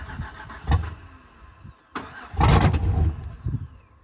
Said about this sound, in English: you go to turn the car on and it'll try to start, but then it shuts the fuel off